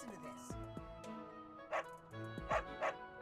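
Game music plays with a few short, bright dog barks and yips from the pet dog in Fire Emblem: Three Houses, three quick bursts spaced apart.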